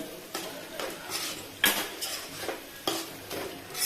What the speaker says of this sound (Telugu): ఆలుని ఇలా మసాలా అంతా బాగా కలుపుకోవాలి.